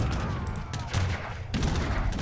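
Cannons firing volleys in a video game battle, heard as dense rumbling bursts of gunfire-like blasts in quick succession with a brief lull in the middle, moderately loud.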